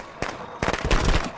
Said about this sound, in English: Those fireworks are very bright.